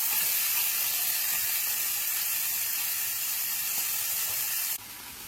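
Alaskan cod fillets frying in a pan give off a steady, bright sizzle and hiss, close and even for about five seconds, then dropping off abruptly near the end, with no voices.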